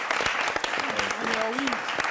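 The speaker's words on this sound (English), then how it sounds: "Please clap for our guest." A studio audience applauds a guest on a television talk show, the clapping dense and steady for about two seconds while voices sound under it.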